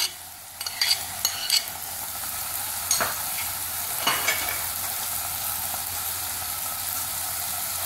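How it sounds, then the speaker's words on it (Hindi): Mashed brinjal bharta is stirred in a sizzling pan, a constant frying hiss with a few sharp spoon scrapes and knocks against the pan early on, then steady sizzling. "इसको अच्छी तरह से मिक्स करेंगे।"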